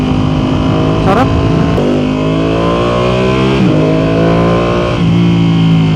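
Ducati Panigale V2 motorcycle engine revving and pulling hard through its gears, a loud, close, continuous roar with pitch rising and dropping at each shift, heard from on the bike.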